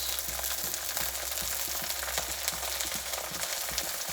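Capsicum and onions fry in a pan in a home kitchen with a dense, continuous crackling sizzle, loud and close, with rapid pops throughout and no voices.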